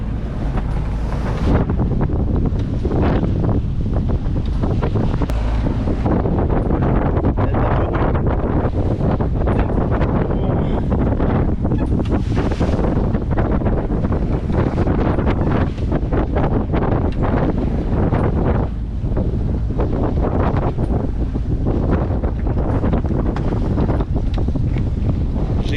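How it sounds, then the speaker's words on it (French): Strong 20-knot wind buffets the microphone in continuous gusty roars aboard a sailboat near a breakwater, with water sloshing beneath; no voices. "Il y a 20 nœuds de vent."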